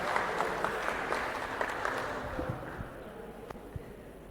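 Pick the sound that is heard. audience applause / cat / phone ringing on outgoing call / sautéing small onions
audience applause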